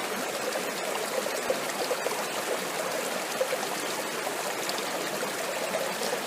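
A creek flows steadily at a gold prospecting site in Wicklow, with a soft, continuous trickling and gurgling of shallow water close by and no voices.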